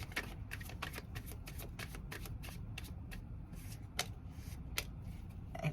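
Tarot cards are shuffled by hand in a quick, crisp flurry of riffling snaps and soft slides, close and fairly quiet, running steadily with a few sharper card clicks and no talking.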